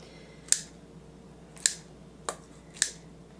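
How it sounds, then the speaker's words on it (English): Kitchen shears snipping green candied cherries in half, four crisp, quiet snips spaced about a second apart with no talking. "Use your kitchen shears and just get in there and snip them in half."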